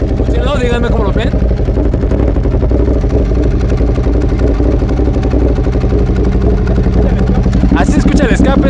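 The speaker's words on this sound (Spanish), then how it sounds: "Así escucha el escape, nada más de sin acelerar ni nada" A Ducati Monster 821 motorcycle exhaust idles loudly up close, a deep steady rumble with rapid pulsing exhaust beats that stays level throughout.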